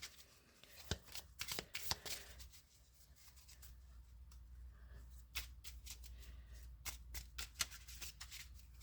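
A deck of cards being shuffled by hand, with repeated sharp riffling bursts and soft shuffling rubs at close range, quiet overall with pauses between passes.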